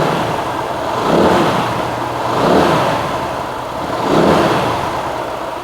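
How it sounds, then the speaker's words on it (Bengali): Zontes ZT-155 U naked motorcycle running at a steady idle and revved three times in slow, evenly spaced swells, each rising and falling back, close and fairly loud with no talking. "বাইকটা কিন্তু স্টার্ট করা হয়েছে বন্ধুরা"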